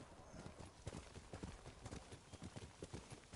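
Horse hooves clip-clop in a steady trotting rhythm in the samurai game Ghost of Tsushima, fairly close and continuous throughout, with no talk over them.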